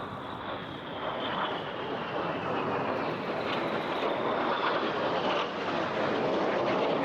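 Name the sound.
Red Arrows jet aircraft flying past at airshow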